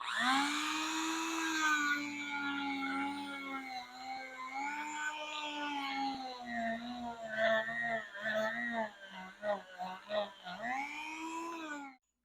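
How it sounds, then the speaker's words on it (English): A Dremel rotary tool fitted with a sanding drum grinds a raised body mount, giving a close, sustained high-pitched whine that wavers and stutters as pressure shifts, ending abruptly when it stops. "get a Dremel with the sanding drum on there, and you're just gonna go around in circles"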